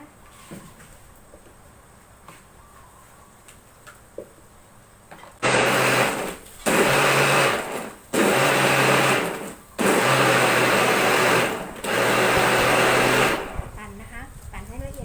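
A kitchen blender whirs loudly in five bursts of several seconds each, blending a Pipo jelly drink, after a quieter stretch of low background noise with someone talking.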